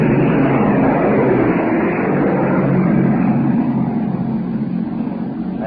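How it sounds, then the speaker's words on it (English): Low-flying aircraft passing overhead during the 1944 D-Day landings off the Normandy shore, a loud sustained broadband engine roar that stays steady and slowly eases, with no talk. "Now planes are going overhead."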